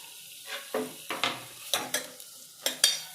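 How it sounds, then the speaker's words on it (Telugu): Onions and green chilies are stirred in hot oil, with a quiet frying hiss under a series of about seven distinct, rhythmic spatula scrapes and taps against the pan. "ఇందులోకి మనం కట్ చేసి పెట్టుకున్నాం కదా ఆనియన్స్, పచ్చిమిర్చి ఇందులో వేసేసుకోవాలి."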